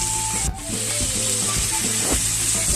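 Chicken satay cooking alongside rice in a home kitchen, a loud, continuous sizzle with light clinking and stirring sounds and steady background hum, no talk.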